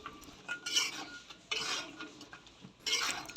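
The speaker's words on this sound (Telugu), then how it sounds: "చికెన్ అది ఇందులో వేసేసి ఇంకొకసారి అయితే కలిపేసుకుందాము" Fried chicken pieces being stirred into oil for a homemade chicken pickle, three separate scraping, clattering bursts of utensil against a pan, close and clear with no talking.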